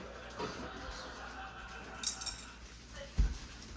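A chopstick stirs seafood paella in a pan, giving soft scraping and a few light clinks and taps against the metal, close and fairly quiet.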